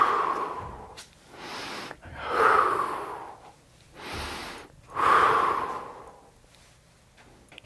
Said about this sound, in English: if you breathe audibly in a relaxed way while you're swinging your leg